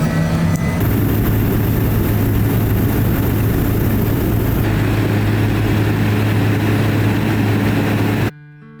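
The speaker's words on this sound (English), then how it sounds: "We're about to board a seaplane" A seaplane's propeller engine drones loud and steady at close range, a heavy low roar that holds without a break before cutting off at the end.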